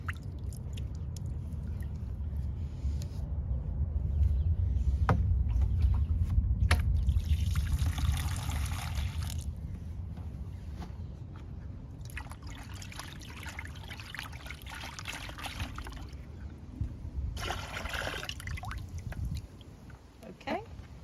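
Water trickles and pours while a container is rinsed out outdoors at an allotment plot, a steady close splashing stream with brief gaps, heard under people talking.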